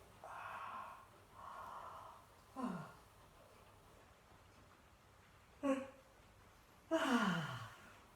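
Someone stretching lets out several soft, drawn-out yawns and sighing breaths, the later ones sliding downward in pitch, separated by quiet pauses and close to the listener.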